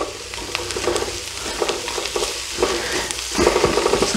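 Apples for cornbread stuffing cooking in a hot pan give a steady close sizzle with occasional stirring scrapes and clinks, louder toward the end, and no voices.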